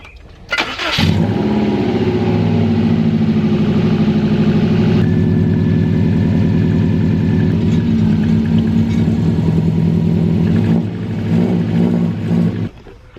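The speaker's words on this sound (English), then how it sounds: "I really just wanted to see what it'd sound like without the muffler" A car engine cranks and fires, then idles loudly with a raw, throaty, unmuffled rumble, shifting tone briefly before cutting off near the end.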